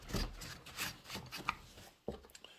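A dirty chainsaw that had been running rich is wiped down by hand: soft, close rubbing strokes repeat in an uneven rhythm, with a sharp knock or clunk partway through.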